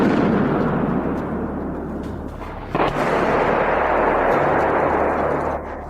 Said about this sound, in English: Heavy shells flew in our direction. The forest was drowned in the echoes of explosions.